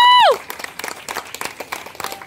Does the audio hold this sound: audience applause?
yes